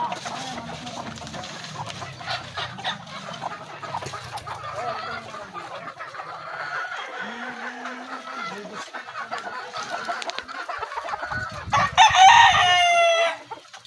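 Chickens at a small-scale gamefowl breeding farm cluck on and off, close by, and a rooster bursts into a loud crow near the end, with faint background sounds.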